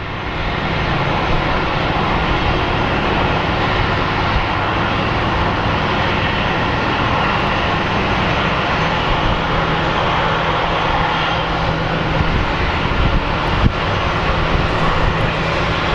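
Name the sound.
airplane landing at Phoenix Sky Harbor airport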